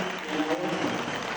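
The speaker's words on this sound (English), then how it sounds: "let's give this guy a round of applause one more time" Awards ceremony audience applauding, a steady patter of many hands clapping that sits moderately loud and fills the whole moment, with faint voices underneath.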